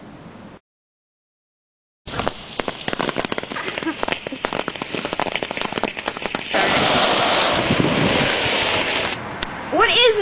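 Fireworks crackle and pop in dense bursts after a brief silence, growing louder and rougher toward the end with windy, hissing noise.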